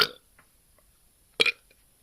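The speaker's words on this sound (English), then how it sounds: "5 burps, so it's a sign of a good beer." A man burps loudly after drinking Pabst Blue Ribbon beer, two distinct belches separated by a quiet pause, the second a bit longer and fuller.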